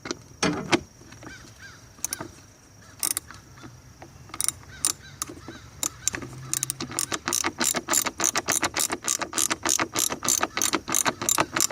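Ratchet tightening bolts on a Volkswagen air intake with a plastic housing, close and fairly quiet, with scattered clicks at first building into a fast, regular run of ratcheting clicks.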